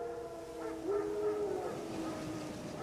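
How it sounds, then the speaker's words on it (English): Wild dogs howl in The Witcher 3 video game, a drawn-out wavering howl rising in the middle over a low murky ambience, moderately distant and without talk. "Wild dogs. Yes. More dangerous than wolves."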